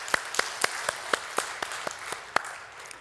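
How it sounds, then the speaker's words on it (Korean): A church congregation claps in thanks during a Sunday sermon: about nine sharp, evenly spaced claps in a steady rhythm, fairly close, with no talking over them. "우리를 위해 돌아가신 예수님께 감사의 박수 한번 올리겠습니다."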